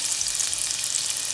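Onions hitting hot oil for a seasoned shepherd's pie, a dense, steady sizzle close up and fairly loud, lasting about a second and a half with no voices.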